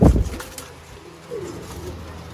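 Pure Ferozpuri female pigeons, a loud burst of flapping or movement close by, then soft low cooing in the background.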